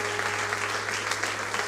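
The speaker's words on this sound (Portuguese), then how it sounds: "Aplauda o Senhor bem forte." Church congregation clapping loudly and steadily at a worship service, a dense, continuous burst of applause with a low hum underneath.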